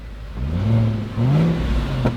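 A Toyota accelerates hard from close by, its engine note climbing smoothly as the Aisin automatic transmission slips through gear changes almost seamlessly, with a brief dip and fresh rise midway.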